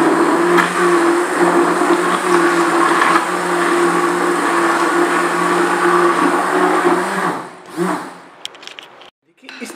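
An electric beater whirs steadily, mixing cream, sugar and cardamom powder for homemade mango ice cream, a loud close motor drone with a constant pitch that cuts out near the end, followed by brief handling sounds.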